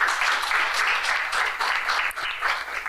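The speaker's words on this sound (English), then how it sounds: "You can clap for yourselves as well." Students at a debate event applaud together in a steady, moderately loud ripple of clapping that carries on without pause, with no voices on top.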